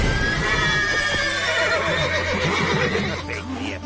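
Horses neigh and whinny in The Witcher 3 video game, loud and close, with several drawn-out cries over a steady hum and a faint clip-clop of hooves, and no one talking.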